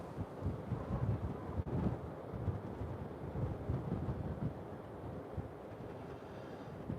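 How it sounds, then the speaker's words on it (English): Strong, cold wind buffets the microphone outdoors at night, a continuous low rumbling roar with gusty swells and no voices. "everything's blowing away here, you know. This wind is horrendous. I'll tell you what, it's a cold wind."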